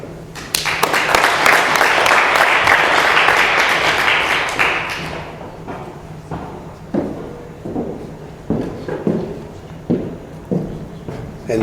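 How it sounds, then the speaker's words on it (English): An audience at an AA anniversary mini convention in Doylestown, Pennsylvania, breaks into dense, loud applause for about five seconds, then it thins to scattered claps, taps and low murmurs. "And the crowd goes wild."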